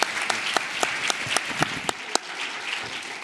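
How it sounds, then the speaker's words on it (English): An audience applauds after a women's health panel, a short burst of steady group clapping with a few distinct sharp claps close by, heard on its own without speech. "I'd like a big round of applause"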